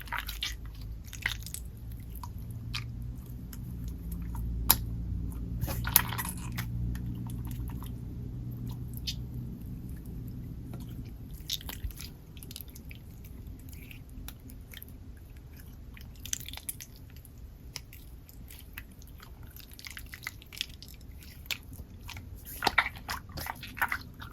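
Shimmery, squishy flubber-type store-bought slime being squeezed and worked by hand, giving soft wet squelches and sticky crackles at close range, fairly quiet and continuous with a few sharper pops, no talking.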